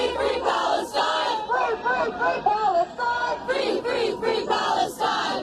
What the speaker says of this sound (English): This is what it sounds like this morning at George Washington University encampment in D.C.